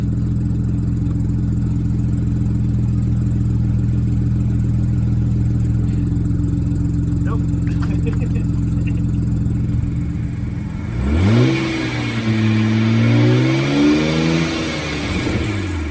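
An E92 BMW 335i engine hums steadily at idle, then revs up and down in several sweeping surges as it is put in gear under load after a differential swap.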